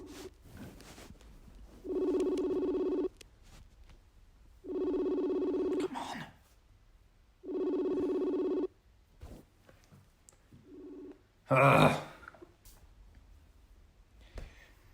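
A telephone ringback tone repeats three times in steady, evenly spaced bursts, with a few quiet words spoken between rings and a brief clatter near the end.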